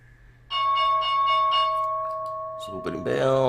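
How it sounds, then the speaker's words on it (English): A stock exchange opening bell rings loud and sustained for about two seconds with a steady ringing tone, then fades as a voice begins talking over it near the end. "So opening bell"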